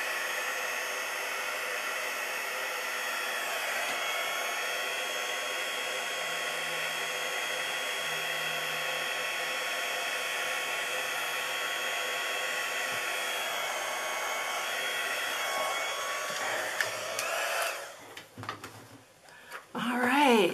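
A heat tool blows a steady whirring, hairdryer-like roar while drying alcohol ink on acetate. It stays constant for most of the stretch, then cuts out near the end as handling noises follow.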